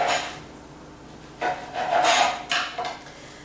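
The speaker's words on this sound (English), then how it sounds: "I like to cut off the crusts" A knife trims the crusts off bread slices for grilled cheese sandwiches, giving a few close, dry scraping strokes in short bursts over a quiet kitchen background.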